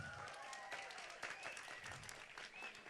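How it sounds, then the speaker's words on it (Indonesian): Soft, steady applause from a crowd at a religious gathering, lasting the whole short stretch at low level with a faint tonal voice drifting over it. "Yang cinta salawat tepuk tangannya."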